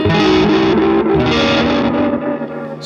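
Dark, muffled repeats from a Janky Tape Echo pedal with its tone control turned down, a loud sustained distorted guitar wash smeared by echoes that slowly trail off, with no talking.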